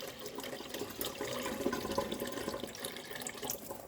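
Rinse water poured out of a pot of washed rice, a steady splashing gush of liquid with gurgling, moderately loud and continuous with no voices.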